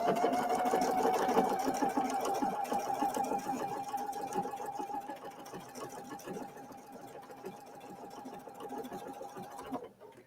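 A PFAFF sewing machine stitches fabric in a steady, fast mechanical whir with a rapid needle clatter, running continuously at moderate volume before stopping abruptly at the end.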